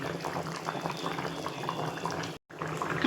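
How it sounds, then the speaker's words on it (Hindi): Elephant foot yam curry gravy, thinned with added water, bubbles and simmers steadily in a pot, a close, continuous boiling with a brief dropout near the end. "मैं और थोड़ा सा पानी डालूंगी इसमें, ताकि ये भी उबलेगा भी और थोड़ा गाढ़ा होगा ना"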